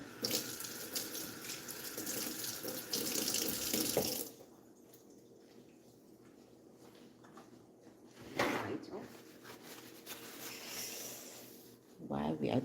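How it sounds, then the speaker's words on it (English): Running tap water pours steadily into a kitchen sink while hands are washed, loud at first, then stopping, followed by a couple of brief splashes and handling noises. "Let me wash my hand."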